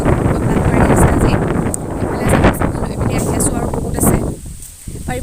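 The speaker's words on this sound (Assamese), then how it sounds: "এতিয়া বহুত বতাহ মাৰিছে আজি।" Strong outdoor wind roars and buffets the microphone almost nonstop, loud and close, before easing briefly near the end.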